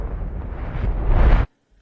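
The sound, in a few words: reverse explosion sound effect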